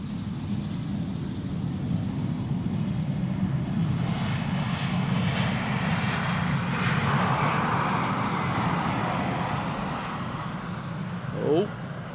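An Embraer 190 jet arriving at Schiphol Airport after a flight from London City, its engines giving a loud, steady roar that carries through the whole stretch, with no break.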